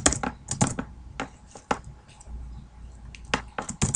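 Rapid clicking of a computer keyboard while JavaScript code is typed, an uneven run of close keystrokes with brief pauses and no talking.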